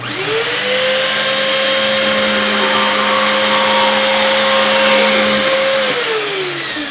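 A VEVOR 110V portable band saw with a removable alloy steel base runs loud and close, its motor spinning up, holding a steady whining drone through a cut for several seconds, then winding down, with no speech.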